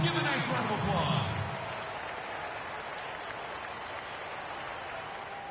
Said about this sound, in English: Give a nice round of applause.